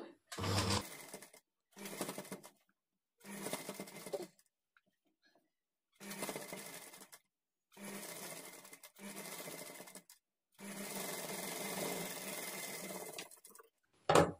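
A domestic sewing machine runs in repeated bursts while stitching and attaching puff sleeves at the shoulder of a garment, eight close, loud whirring runs of one to three seconds separated by short silences, the last run longest.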